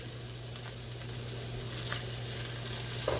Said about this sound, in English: I got a tablespoon of garlic I'm putting in to get this going right now.